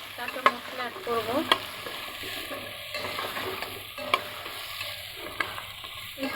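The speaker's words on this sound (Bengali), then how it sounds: "আগে আমি আলুটাকে একটু হলুদ আর লবণ দিয়ে তেলের মধ্যে ভেজে নেব" Potatoes frying in oil with turmeric and salt make a close, bubbling sizzle, with a few scattered clinks and scrapes of stirring against a steel pot and no voices.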